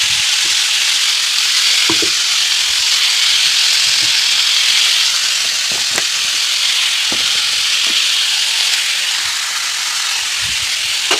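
Chopped capsicum frying in a pan, a steady loud sizzle with occasional stirring clatters throughout, no voices.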